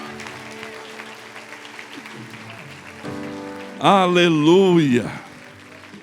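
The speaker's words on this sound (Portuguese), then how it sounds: "Vamos aplaudir a Deus, obrigado gente." A church congregation claps through a worship service, a steady rain-like patter beneath sustained music, while a voice calls out and then sings loudly over it near the end.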